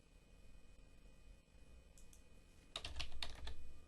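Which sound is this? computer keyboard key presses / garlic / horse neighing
computer keyboard key presses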